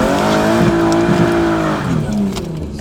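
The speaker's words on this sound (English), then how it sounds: "It's just one wheel peel the whole time, and that's a problem." A Nissan 300ZX Z32 spins a single rear tire after a clutch dump, its engine roaring loud and close with a sustained tire squeal over the steady drone throughout.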